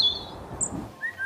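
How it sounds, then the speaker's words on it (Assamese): A house sparrow gives a few brief, thin, high chirps, faint and close together, with no other sound. "স্পেৰো স্পেৰো মানে"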